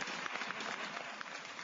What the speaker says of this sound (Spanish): Así que vengan los aplausos, ingeniero